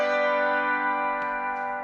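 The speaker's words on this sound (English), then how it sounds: "harp for the next song. It sounds like this." A sustained, shimmering harp passage with ringing harmonic tones, steady and fairly loud throughout, colored by echo-like effects, with no talking.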